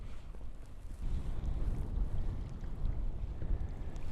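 Cold wind blowing on the sea off Whitley Bay during early-March kayak fishing, a steady low rushing buffet that swells after the first second and stays fairly loud and close, with faint water lapping beneath.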